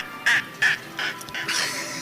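A man imitates a duck call with his voice, giving a series of five nasal quacks, the first two loud and clipped, the rest longer and softer, close and alone without other talk.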